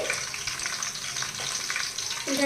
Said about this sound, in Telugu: అల్లం వెల్లుల్లి పేస్ట్ పచ్చివాసన పోయేంత వరకు వేగించాలండి